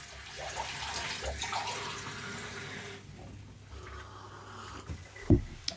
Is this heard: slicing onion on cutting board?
no